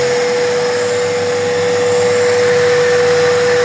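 Steady, loud whir of a newly wired radiator cooling fan motor on a 1986 Honda Civic with an overheating problem, running continuously with a constant hum and no talk.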